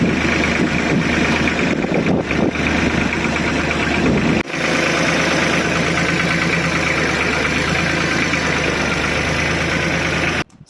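Tractor backhoe engine idling steadily while moving things around, a loud, constant mid-pitched rumble with slight knocking that holds for about ten seconds before cutting off briefly.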